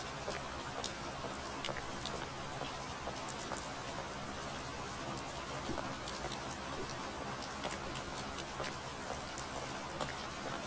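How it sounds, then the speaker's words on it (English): Rain falls steadily in the PSX horror game Hibernation, a soft, continuous patter with occasional faint ticks of drops, unchanging and alone throughout. "It's raining blood."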